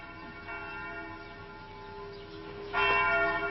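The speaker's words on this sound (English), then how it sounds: "The bell of the Palace of Justice?" Bell of the Palace of Justice in Venice tolling, a single bright stroke arriving late and ringing out over a quiet, muffled room tone, with a fainter earlier chime.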